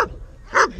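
During protection training, a dog lets out a single sharp bark near the end after a brief voice at the start, close and fairly loud.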